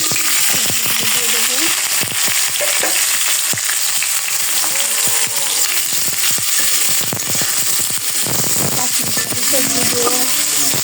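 Soybean curry sizzling and crackling in hot oil on a stove, loud, dense frying with sharp pops and occasional stirring scrapes throughout.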